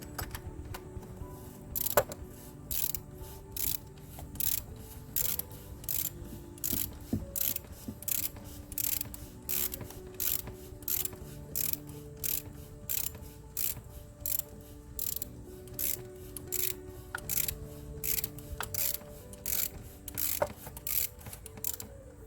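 Oil filter cap being loosened by hand on a 2008 Saturn Vue Hybrid, a quiet run of regular ratcheting clicks repeating steadily throughout, close up with no talking.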